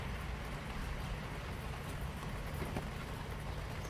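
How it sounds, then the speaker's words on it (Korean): Steady rain falling, heard as a continuous, even hiss with no pauses, fairly soft throughout. "비가 오네요."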